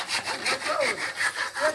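Hand saw cutting through wood, about eight quick rhythmic rasping strokes, close and moderately quiet.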